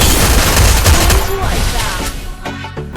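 Bursts of rapid automatic gunfire from the Free Fire battle game, loud and close, rattle through most of the moment before tapering into a few scattered shots.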